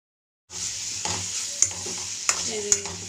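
Carrots sautéing in oil in a pan, a constant close hiss of frying with a few sharp clinks of a spatula against the pan.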